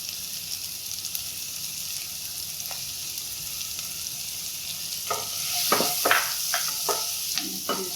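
Turmeric powder is stirred into hot frying oil for chana masala, a soft steady sizzle broken by several scraping spatula strokes toward the end, close by.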